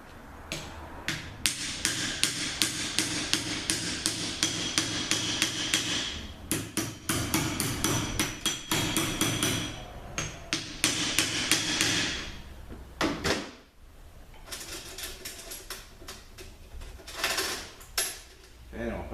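Metal hammer strikes driving a greased bearing into a Honda BAXA assembly, a long run of rapid, close, ringing taps with short pauses between bursts, faint talk in places.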